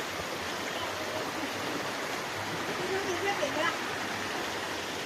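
Waterfall at Nam Nao in Thailand, a steady, broad rush of falling water that stays close and constant, with faint voices barely showing beneath it.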